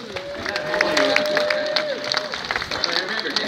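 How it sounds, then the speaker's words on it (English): A street performance crowd in Copenhagen claps and cheers in a dense burst of applause close by, fading somewhat toward the end, with a voice sounding over it. "One more round of applause for you guys for being here"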